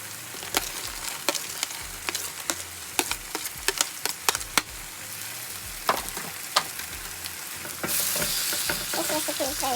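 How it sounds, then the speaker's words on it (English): Chopped vegetables for chicken fried rice fry in a hot pan, giving a steady close sizzle broken by frequent clinks and scrapes of stirring, with the hiss swelling louder near the end. "So now I'm gonna add my vegetables first."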